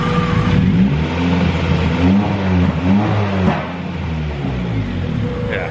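A Honda B18B four-cylinder car engine runs steadily with harmonic engine tones, rising slightly in a couple of light revs before settling back, close and loud with no talking.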